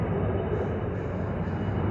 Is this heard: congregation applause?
no